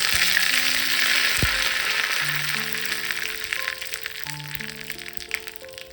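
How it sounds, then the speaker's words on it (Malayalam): Curry leaves hit a tempering of popped mustard seeds and chilli in hot oil just after the stove is turned off, giving a loud crackling sizzle with sharp pops that gradually fades. Faint tones run underneath. "ഓഫ് ചെയ്തതിന് ശേഷം ഇതിലേക്ക് കറിവേപ്പില ഇട്ടു"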